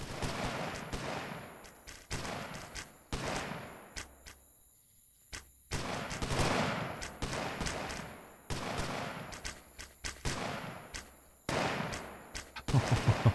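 Musket shots in Colony Survival crack out one after another in an uneven rhythm, each sharp report followed by a short fading tail, with a brief quiet stretch partway through and no talk.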